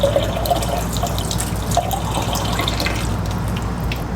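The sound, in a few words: coolant leaking and dripping onto the floor from an MG Midget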